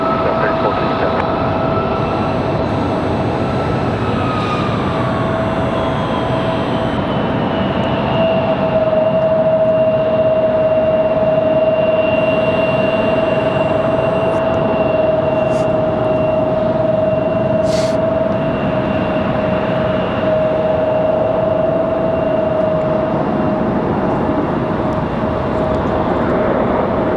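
A Southwest jet airliner, flight 3457, takes off from Raleigh-Durham International at night, a loud, sustained engine roar with a steady whine and rumble lasting the whole time, heard from the spotting position.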